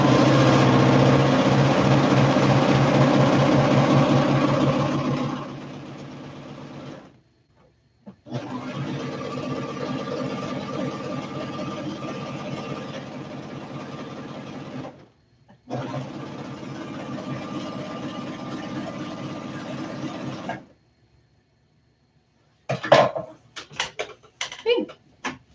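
A serger sewing machine stitches and trims fabric in three long, steady, whirring runs separated by short pauses, close and fairly loud, followed by a few handling clicks.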